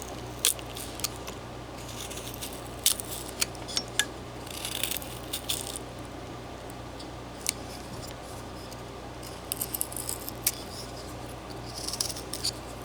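A knife whittling a wood carving of figures, with quiet, irregular scraping cuts and small ticks scattered over a faint steady background.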